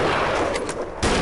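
A rifle shot rings out in the hunting game Deer Drive, its echo rolling away before a second sharp report cracks in near the end, both loud and close.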